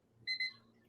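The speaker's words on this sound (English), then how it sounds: "Hey, it beeped." A timer gives a short electronic beep, two quick bright tones in about a second, heard faintly against a quiet background.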